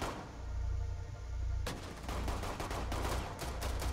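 Gunfire in Rainbow Six Siege on the Presidential Plane map during a team deathmatch: a muffled lead-in gives way to dense, rapid bursts of shots that continue steadily to the end, with no talk.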